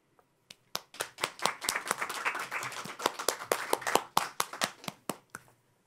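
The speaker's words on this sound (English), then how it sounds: "I feel we can clap a bit louder for that." An audience at a talk on solar cities claps in a sparse, uneven round: distinct, sharp hand claps that build, hold for several seconds and then thin out to a few last claps.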